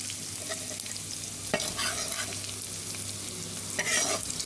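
Onions and turmeric fry in hot oil with a steady close sizzle, broken by a few sharper bursts of crackle and stirring scrapes, with no talking.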